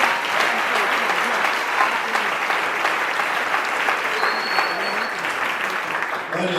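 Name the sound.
church congregation applauding and cheering for Jesus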